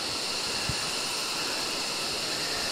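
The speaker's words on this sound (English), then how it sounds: "Right next to this beautiful river" A river flows beside a historical site in northern Vietnam, a steady broadband rush of water heard close and even throughout, with a single brief low thump near the start.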